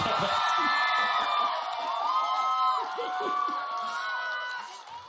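A crowd at an open-air mountain village concert roars for a rock singer: dense cheering with high whoops and shouts rising over a steady wash of crowd noise, loud and continuous before fading slightly at the end.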